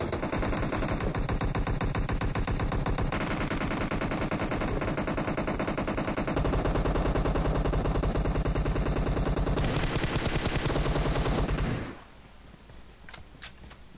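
Sustained automatic gunfire in the mobile game PUBG Mobile, a loud, relentless machine-gun stream that runs for about twelve seconds before cutting off to near quiet with a few faint ticks.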